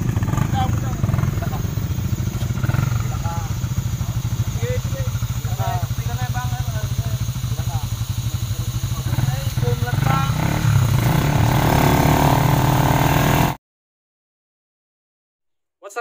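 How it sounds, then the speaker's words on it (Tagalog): Two Suzuki Raider motorcycles, a Raider FI and a Raider 150, doing a burnout, with steady engine roar and revving held under voices for about thirteen seconds before cutting to silence. "So magbo-burnout daw sila guys."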